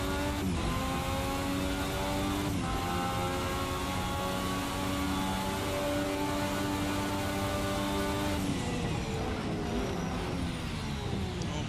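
A Formula 1986 V6 turbo race car engine in a racing video game roars continuously, and its pitch climbs steadily as the turbo boost builds, then drops briefly at a gear change before rising again.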